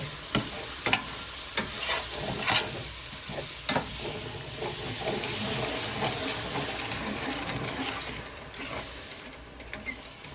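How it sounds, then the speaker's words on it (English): Herb gravy mix deglazing a frying pan, a steady broadband sizzle and bubbling hiss with intermittent sharp pops and stirring clicks, close and continuous throughout with no talk. "That will deglaze the pan. I'm going to let it cook a little"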